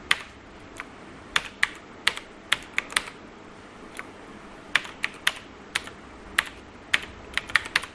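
Keys clack on a computer keyboard as a website name is typed, close and crisp, with scattered single strokes and quick clusters spread unevenly over several seconds in a quiet room without talking.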